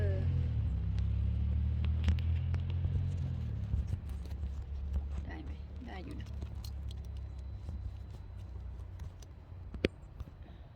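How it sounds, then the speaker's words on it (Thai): A car rumbles past nearby, loud at first and then fading after a few seconds, followed by small clicks and handling noises, with people talking throughout. "เสียงรถ เสียงรถมันเข้า"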